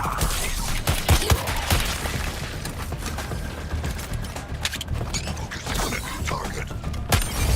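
A weapons barrage in the Suicide Squad: Kill the Justice League game on PS5, with dense rattling bursts, mechanical clanks and booms firing in rapid irregular succession.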